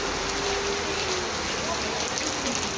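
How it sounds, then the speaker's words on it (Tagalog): Heavy rain pouring down in a steady, dense roar with no pauses, close and loud throughout. "Lakas ng ulan, baby ko."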